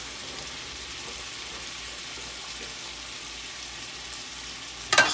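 Cubed ham and bacon frying in a skillet give a steady, close, even sizzle and crackle, with a short sharp clatter right at the end.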